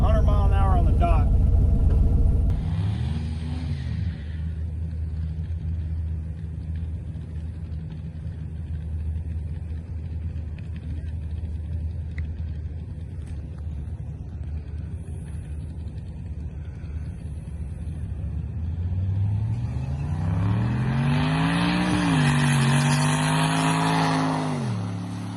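An LS turbo-swapped Ford Ranger running at a drag strip, a steady engine rumble at a distance that rises into a louder revving surge near the end, with a brief burst of noise at the start.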